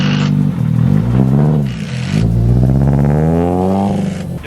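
Engine of a supercharged drift car revving hard, loud and close: a couple of sharp blips and drops, then a long sustained climb in pitch with a rasping, buzzy exhaust note.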